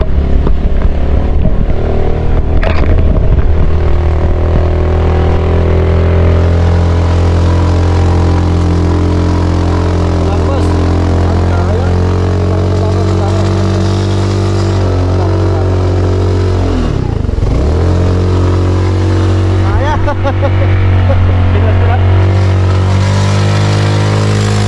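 A motorcycle engine strains under load with a loud, close, low droning rumble, laboring continuously with brief dips and surges in revs as it struggles to pull.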